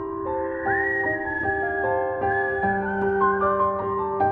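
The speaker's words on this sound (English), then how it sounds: "He suddenly heard the sound of whistling from the trees to his right" Eerie whistling in a dark forest, a single continuous melodic whistle with sliding, held notes, clear and moderately loud.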